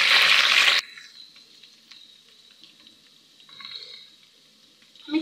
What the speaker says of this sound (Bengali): আর এখন এর মধ্যে দিয়ে দিব গোটা রসুনের কুয়াটা, এটা 2 থেকে 1 মিনিট ভেজে নিয়ে।